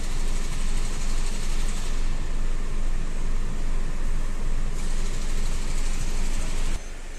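A car with an AMT automated manual transmission runs steadily after a clutch refit, heard as a loud, constant broadband engine and fan-like hum with no distinct revving, cutting down slightly near the end.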